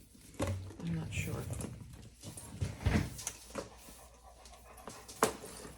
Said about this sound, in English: my poor dog is panting out there